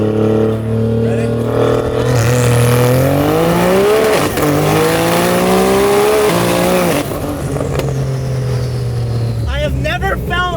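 A twin-turbo Dodge Viper making over 2100 wheel horsepower pulls hard through the gears, its loud engine note climbing in repeated rising sweeps before easing off, with voices faintly audible at the end.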